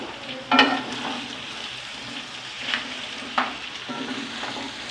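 Ginger garlic paste frying and being stirred for mutton pulao, a steady low sizzle broken by a few sharp scraping stirs, close up with no talking.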